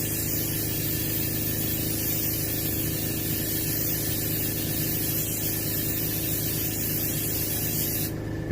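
Continuous hiss of an airbrush or spray gun applying base coat sealer onto a striper fish mount, steady and close, with a faint mechanical hum beneath and no pauses.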